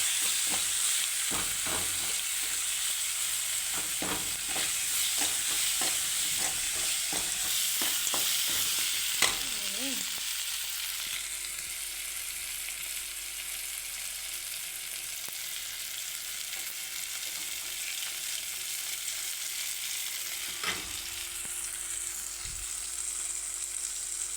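Carrot rice fries gently in a pan on a low flame, with a soft continuous sizzle under repeated scraping stirs that come in a quick series early on, then thin out to occasional ones.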